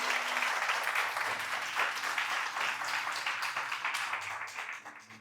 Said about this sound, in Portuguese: Aplauda isso em nome de Jesus